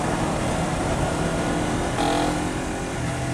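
Honda CBR250RR motorcycle engine on a test ride, a steady loud drone with wind rush throughout and a slight shift in engine note partway through.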